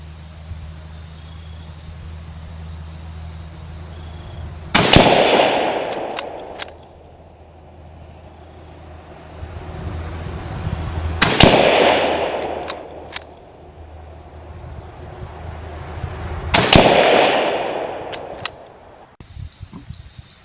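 Three loud rifle shots from a Kar98k chambered in 8mm Mauser, fired at an outdoor range. They come about six seconds apart, each a sharp crack followed by a long decaying echo, with no talking in between.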